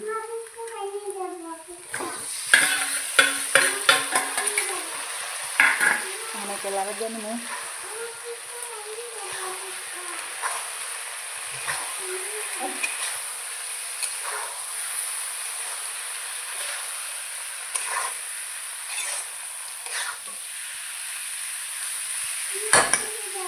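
Chicken frying in spice paste, a steady sizzle and hiss close by with occasional stirring knocks, while people talk over it, including a voice near the start.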